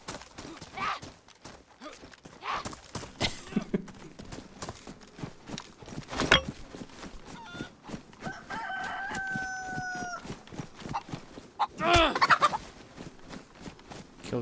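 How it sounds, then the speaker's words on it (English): Poultry calls, gobbling and clucking, from a chicken in the survival game DayZ, sounding in a couple of short bursts among footsteps and game noise, with faint clip-clop-like thuds throughout. "Kill the chicken."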